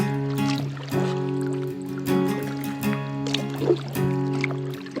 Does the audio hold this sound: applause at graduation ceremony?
no